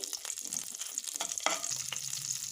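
Green chillies and dried red chillies fry in a pan with cumin seeds, giving a close, crackling sizzle broken by a few quick stirring scrapes and spits.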